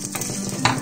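Spices and a clove of unpeeled garlic fry lightly in a pan for rasam, a close, steady sizzle broken by a brief scrape of stirring near the end.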